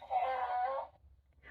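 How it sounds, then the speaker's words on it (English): A donkey bray from a button on a children's farm sound book, a loud drawn-out wailing call lasting under a second, then a brief faint squeak after a pause. "Donkeys neigh."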